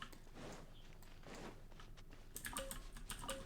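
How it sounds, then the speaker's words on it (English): Computer keyboard typing picked up by a desk microphone, a steady patter of close key clicks that grows louder and sharper toward the end. "I think it does pick up my keyboard sounds just as loud"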